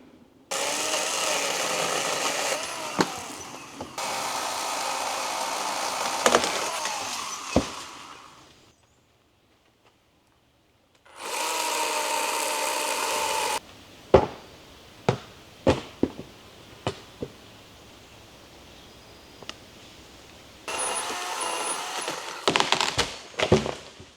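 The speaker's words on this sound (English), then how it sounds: "electric chainsaw." A small electric chainsaw cuts wood outdoors on a backcountry trip, buzzing in several long bursts separated by pauses, with sharp knocks and cracks of wood in between.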